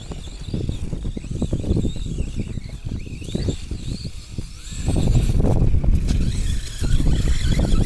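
Arrma Typhon 3s RC car driving through snow on a buried outdoor track, its electric motor whining and surging steadily throughout, growing louder toward the end with wind noise in the background.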